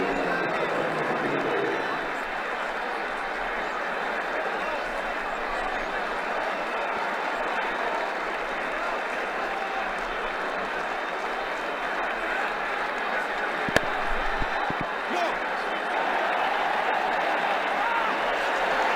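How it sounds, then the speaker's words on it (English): Cricket stadium crowd at a T20 international between Sri Lanka and Bangladesh roaring after a shot, a broad, sustained wash of cheering with a brief sharp knock partway through. "Crowd enjoyed that shot."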